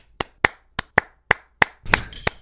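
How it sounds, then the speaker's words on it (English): A single person claps hands about eight times in an uneven rhythm, sharp close hand claps with brief gaps, the last few quicker and slightly blurred together. "I love that we're just going out to you clapping."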